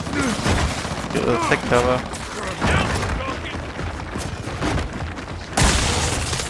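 Gunfire from a Lancer assault rifle and Gnasher shotgun in Gears of War 4 rattles in dense, continuous bursts with heavy thuds, running loud throughout beneath a voice.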